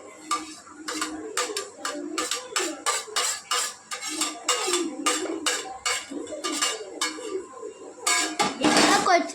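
A utensil clinks and scrapes against a bowl in quick repeated strokes while mixing onion, green chilli, masala and salt for a vermicelli omelette, a close rhythmic clatter that builds louder at the end.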